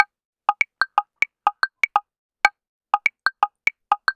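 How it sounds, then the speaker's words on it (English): A PolyNome metronome app clicks out a 3-against-5 polyrhythm, crisp isolated ticks at two interleaved pulses with differently pitched accents, repeating over two bars with no voice present. "this is set up to play a single bar divided into 3 versus a single bar divided into 5"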